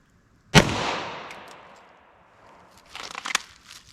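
A single sharp gunshot from a .40 S&W handgun with a 5-inch barrel firing Federal Syntech Defense ammunition cracks loudly and rings out, followed by faint rustling and clatter.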